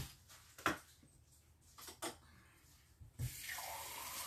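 Water from a kitchen tap topping up a container for cooking semi-wholemeal rice, short splashes and drips, then a steady run that starts near the end, close and quiet.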